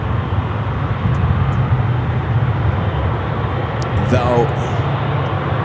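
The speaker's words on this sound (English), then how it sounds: "That is the China Eastern 777-300ER heading back to Shanghai, flight 590 in the Shanghai Museum livery." A China Eastern Boeing 777-300ER airliner departs San Francisco airport, a broad, steady jet roar at a distance filling the scene, with a brief spoken word partway through.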